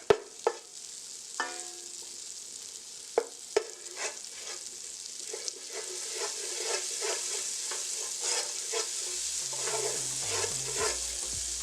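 Butter melts in a hot pan with a steady sizzle that thickens and brightens as it goes, marked by a few sharp clinks early on and a low hum near the end, with no talking.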